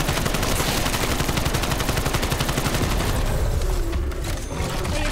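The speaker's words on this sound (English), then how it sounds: "Machine gun" Rapid, sustained machine gun fire in Black Ops Cold War Zombies, loud and close, with dense bursts rattling continuously before tapering slightly near the end.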